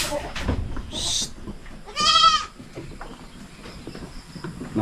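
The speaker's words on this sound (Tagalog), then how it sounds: "Yung mga kambing natin." Farm goats bleat nearby in a loud, wavering call, with a shorter cry before it, amid outdoor background noise and some people talking.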